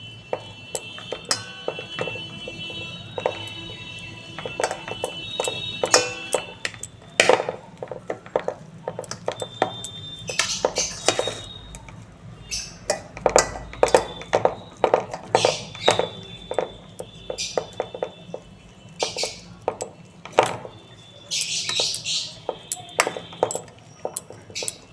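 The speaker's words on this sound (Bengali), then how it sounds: "এবার আলুটা একটু হাতার সাহায্যে ম্যাশ করে নেব।" Boiled potatoes, four or five of them, mashed with a metal ladle for vegetarian ghugni, giving repeated clinks and taps of the ladle against a pot, some quick and some spaced out, fairly close.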